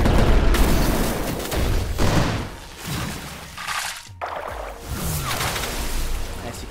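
Bizarre Rifle shots in the Blox Fruits video game, with repeated booming blasts that punch through a busy mix of game effects. The noise stays loud nearly throughout and breaks off briefly in the middle.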